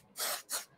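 Two short hissing bursts of spray baste adhesive, applied lightly for quilting a fall pillow, close and fairly quiet with a brief pause between them.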